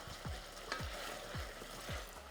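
Meat frying in a hot pan, a steady sizzle with four evenly spaced stirring scrapes over about two seconds, fairly quiet and close, no voices.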